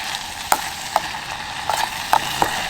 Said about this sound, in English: when you're cooking on an ISO Pro stove like this in a canteen cup, it doesn't take long for it to start sizzling.